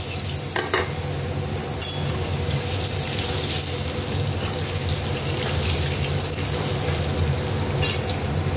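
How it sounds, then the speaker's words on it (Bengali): Potatoes fry in oil, giving a steady dense sizzle with a few sharp utensil clicks and stirring scrapes over a low hum. "আলুটা ভেজে নেব।"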